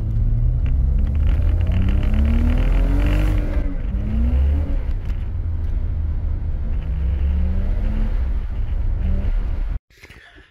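A car makes a quick, spirited road run with a cheap cold air intake mod fitted, its engine rumbling and rising through several rev sweeps as it accelerates and shifts, close and loud throughout before cutting off abruptly near the end.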